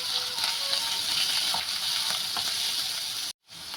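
Tomatoes are stirred into paneer bhurji in a hot pan, giving a steady, close sizzle and frying hiss with faint stirring scrapes that ends abruptly before a brief return, with no voices.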